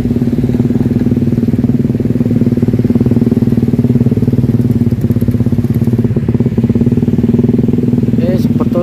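A floodwater pump engine runs steadily nearby, pumping water from a flooded village street on the Demak–Kudus Pantura road; a loud, continuous mid-pitched idle drone with a fast rattling pulse, with a voice talking over it.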